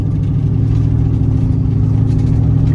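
Mustang GT with 4.56 gears and 315 tires launching from a stop, a loud, low, steady engine roar close up with no break.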